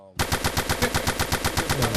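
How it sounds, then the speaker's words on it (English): Rapid automatic gunfire erupts after a brief quiet start, a fast steady stream of loud, sharp shots with no pauses. "gunshots for that one"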